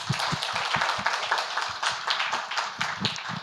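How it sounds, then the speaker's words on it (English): Applause from a conference audience for the presenters at an academic session, heard as steady, fairly close rhythmic clapping from a modest group, with individual hand claps standing out throughout. "can we give them one more round of applause?"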